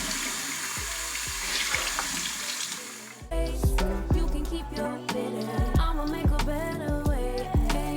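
A steady rush of water runs from a sink tap over makeup brushes, with the flow changing partway through as music begins playing loudly over it.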